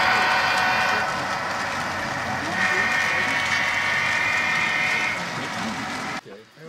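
A model train runs on a huge layout with a wireless DCC controller, giving a steady whirring hum with a faint rolling clatter that lasts several seconds before cutting off abruptly.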